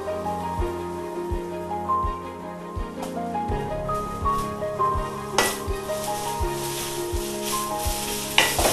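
Sliced okra sizzles loudly in an oil pan for a Kerala-style okra stir-fry, with repeated scraping knocks of a spoon stirring it, close and continuous with no talking.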